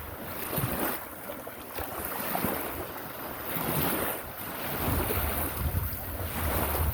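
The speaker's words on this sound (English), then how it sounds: "listen to the sound of the water." Water washing against the pebbled shore of Lake Seymour in Vermont, a continuous soft rushing swell with gentle rises and falls, accompanied by wind noise across the microphone and no voices.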